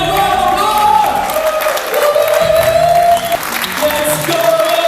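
Audience applause and cheering for a boxing promoter's entrance at a billionaires' boxing event, a loud sustained crowd ovation with music tones running underneath.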